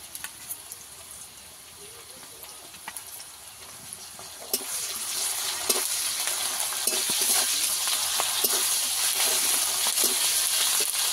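Ginger-garlic paste is dropped into hot oil over fried onions in a pan for a hotel-style egg curry, starting with faint crackles and then building into a steady, closer sizzle that continues to the end.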